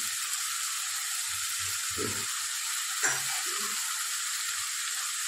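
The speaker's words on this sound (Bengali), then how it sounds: "মশলাটা কষিয়ে নিয়েছি, তেলটা ছাড়তে শুরু করেছে।" Masala for a jackfruit curry sizzles steadily in hot oil, a close, even frying hiss with a couple of faint stirring knocks underneath.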